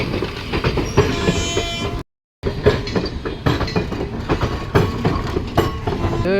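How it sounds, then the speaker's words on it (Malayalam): Railway train rolling slowly over tracks near a diamond crossing in Nagpur, with steady rumbling, clattering wheels and squeals running almost throughout, broken once by a short dropout. "ഈ ട്രെയിൻ അങ്ങനെ മന്ദം നീങ്ങിക്കൊണ്ടിരിക്കുക."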